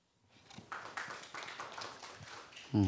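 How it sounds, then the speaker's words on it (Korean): A seminar audience at a real estate market outlook talk gives a short, moderate round of applause that builds quickly and holds for a couple of seconds before a voice cuts in at the end. "박수를 받으셨네요"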